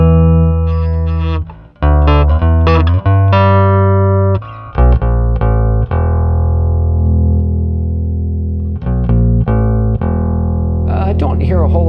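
A Roland G-33 bass guitar runs through a Roland VG-99 modern bass amp model with enhancer, loud sustained notes and sharp plucked attacks in a short played phrase, heavy and slightly distorted, with no talking.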